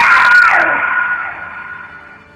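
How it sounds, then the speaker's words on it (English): Eerie scream sound effect for a horror story: a single drawn-out, wailing cry that is loudest at the start and slowly fades over about two seconds, heard alone. "they heard an eerie scream somewhere nearby"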